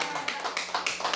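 A church congregation claps together in a quick, even rhythm, roughly a dozen sharp claps in just over a second, moderately loud in a reverberant hall.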